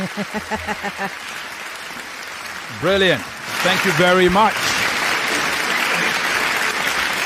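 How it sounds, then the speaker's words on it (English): Audience applause for school debaters at a round-of-16 debate competition, a broad steady clapping swell that rises after a short spoken thank-you and continues to the end, with a voice speaking over it briefly. "But clap for them first now."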